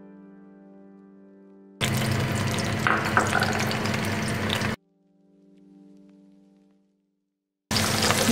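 Onions fry in a pan for a Pakistani-style achaari chicken, a loud close sizzling crackle that cuts in abruptly for about three seconds, drops away to quiet music, then returns at the end.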